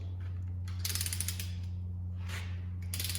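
A torque wrench ratcheting on engine cylinder head bolts, a few quick close clicking bursts over a steady low mechanical hum.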